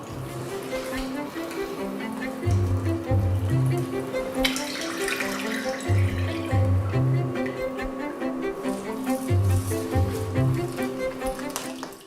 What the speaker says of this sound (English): Rinse them in a large bowl of water to remove any dirt.